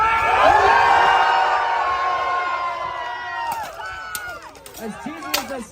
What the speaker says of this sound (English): The louder you cheer, the harder they fight.